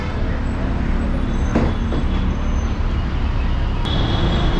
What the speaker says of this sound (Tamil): அடுத்ததாக பஸ் நிற்க போகிறது இந்த Olympia tech park bus stop தாங்க.